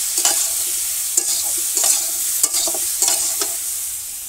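Mixed village-kitchen vegetables with salt and turmeric are stirred in a pan, a utensil scraping in steady strokes about every half second over a soft, constant sizzle, close and alone.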